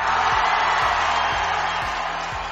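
A cheering preset fired from a button on a MAONO E2 streaming sound card: a steady, dense crowd roar of voices and whoops that fills the whole span, with a faint rhythmic beat pulsing underneath.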